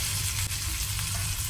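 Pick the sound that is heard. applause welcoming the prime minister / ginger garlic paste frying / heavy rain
ginger garlic paste frying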